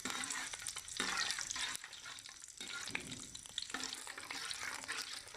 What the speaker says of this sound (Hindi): अब इसमें हम ये साबुत मसाला ऐड करेंगे जिसको हम तकरीबन 1 मिनट तक फ्राई करेंगे